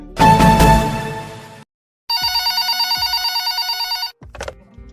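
A telephone bell rings for a radio show caller, a loud burst followed after a short gap by a steady, rapid trilling ring lasting about two seconds, then a brief clatter as the call is picked up; no talking.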